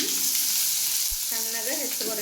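Chopped onions fry in hot oil for North Karnataka paddu, giving a steady, close, even sizzle with a brief low knock partway through and a faint voice underneath toward the end.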